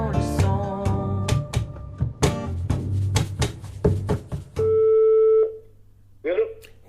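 A telephone call placed from a radio studio: a run of music gives way to a steady, loud electronic phone tone that cuts off, followed by a brief ringing burst near the end.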